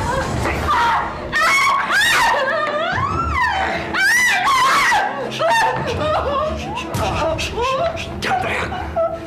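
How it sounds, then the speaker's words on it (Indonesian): A woman screams and wails loudly and close up in a dramatic television film scene, her cries rising and breaking in long anguished bursts that fill the whole stretch. "Jangan teriak."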